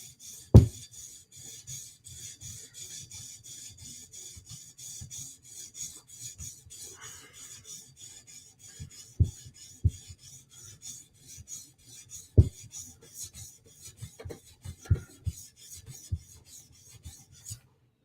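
Knife sharpening on a TS Prof Cadet Nero guided system with a KO3 center clamp and Hapstone Premium CBN stones: steady rasping strokes of abrasive on steel, a rhythmic scraping run with a few sharper taps, close up and alone.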